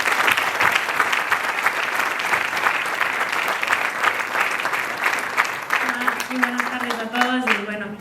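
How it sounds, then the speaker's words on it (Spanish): Strong, sustained applause from a large audience at a talk on women's cycling, dense continuous clapping throughout, with a voice beginning to speak over it near the end. "pedimos un fuerte aplauso"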